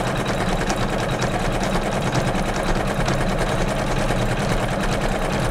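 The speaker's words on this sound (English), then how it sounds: "So it's almost done with the decorative stitching." A home embroidery machine stitches a decorative design on a quilted pillow block, giving a steady, continuous mechanical whir with rapid needle rattle, close and even in level throughout.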